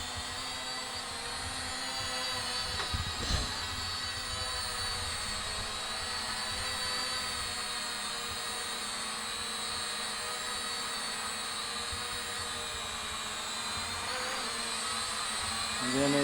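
BEZGAR BD101 foldable camera drone flying in to land, its rotors giving a steady high buzzing whine throughout, with a brief rustle early on and a slight shift as it settles.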